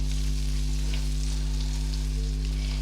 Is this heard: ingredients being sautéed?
yes